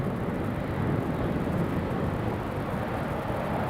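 Jet airliner climbing away after takeoff from Newcastle International Airport, a steady broad rushing roar heard from a distance, sustained and even throughout.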